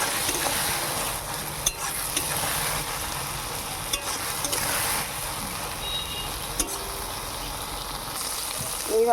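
Hilsa fish heads sizzling steadily in a hot pan while being stirred, a constant broadband fry with occasional scrapes and clicks of the spatula, close and moderately loud throughout.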